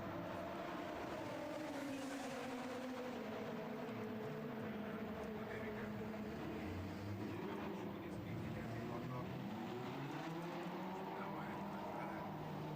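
Prototype endurance racing car number 4 at the Red Bull Ring, its engine note rising and falling as it passes amid continuous loud track noise, with commentary over it.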